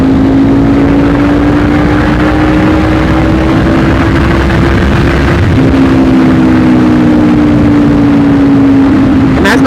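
A 2020 Honda CBR500R motorcycle engine on the road during a ride gives a loud, steady drone with a sustained tone that rises slightly and then eases, with heavy rumble and wind.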